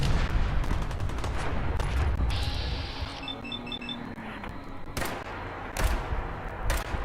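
Gunfire and blasts in a grenade fight in Fallout 4 around Concord. Bursts of shots give way to quieter ambience with electronic beeps, then sharp loud cracks near the end.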